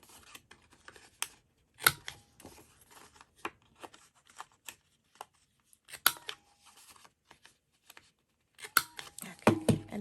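Scissors trimming the corners of an envelope journal, heard as a series of close, sharp snips and clicks in uneven bursts separated by quiet gaps, with no talking.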